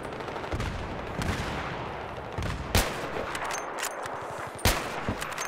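Video game gunfire crackles in scattered bursts under a dense, noisy battle backdrop, with a few sharper nearby shots standing out among quieter distant rattling.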